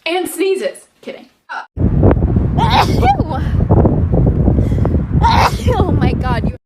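A woman sneezes close by amid breathy gasps and voices, followed by loud wind buffeting across the microphone for the rest of the stretch, with people talking.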